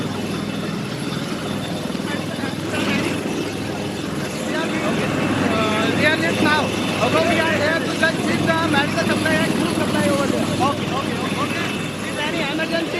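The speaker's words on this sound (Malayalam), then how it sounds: "കാരണം വീണ്ടും ഉയരാൻ പോവുകയാണ് ഹെലികോപ്റ്റർ" An Indian Air Force helicopter lifts off again with a loud, steady rotor and engine roar that fills the whole stretch, while people talk over it.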